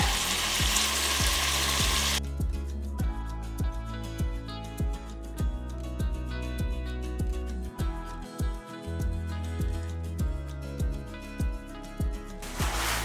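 Mushrooms sauté for parotta salna, sizzling steadily under a loud, rhythmic series of sharp knocks and clacks that run through most of the clip.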